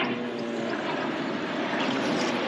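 An airplane drones overhead in inner Sydney with traffic mixed in, a constant, fairly loud wash of engine noise with no break for the whole moment.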